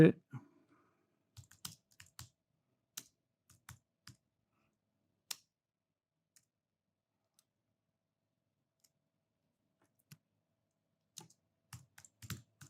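Keys tapped on a computer keyboard while working on text in Adobe Illustrator 2025, heard as scattered short bursts of clicks with long quiet pauses, fairly close and soft, with no talking.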